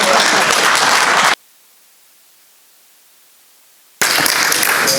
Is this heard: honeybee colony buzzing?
no